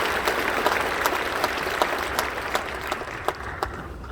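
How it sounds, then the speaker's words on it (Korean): A congregation applauding during an Easter dawn joint worship service in a Korean church, a steady, dense wash of clapping from many hands that fades slightly toward the end, heard alone without speech. "우리 증경회장님들 위해서도 박수 한번 해주시기 바랍니다"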